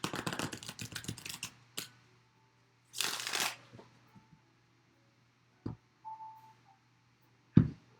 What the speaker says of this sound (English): Lots of shuffling today.